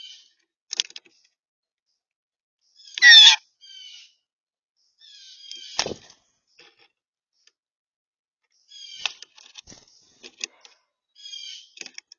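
Sharp, harsh blue jay squawks come in scattered bursts with silent gaps between, some loud and close, others fainter, in an otherwise quiet outdoor setting.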